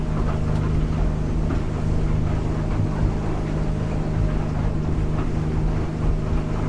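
A 2017 Edge Marine 23'7" boat with a Yamaha 250 outboard runs into the wind at about 17 mph, giving a steady, close engine drone under constant wind rush and water noise with no talk.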